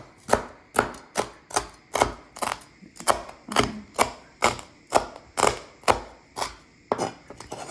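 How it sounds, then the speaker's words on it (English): A knife chops through crispy roast pork skin on a board in an even rhythm, about fifteen crisp, crunchy strokes, each a sharp thud, close and clear with no talking. "And it's skin, I'm just gonna chop it up this way."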